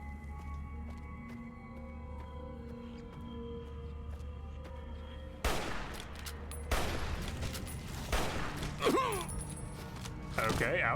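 Paciencia rifle fire in the Fallout: New Vegas game, a few loud sharp shots arriving in the second half after a quieter stretch of game ambience.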